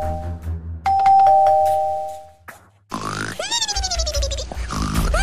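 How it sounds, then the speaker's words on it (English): A doorbell chime rings inside a Minecraft game at night, a single clear ding-dong that rings out and fades, followed by grunting, pig-like game creature noises that fill the rest of the moment. "Who could have rung the doorbell at night?"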